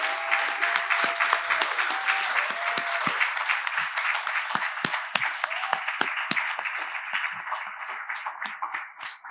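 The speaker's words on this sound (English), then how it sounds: "give them a round of applause as well" A conference audience applauds standing high school students, dense sustained clapping from a large crowd that stays loud and then tapers slightly near the end, with faint shuffling underneath.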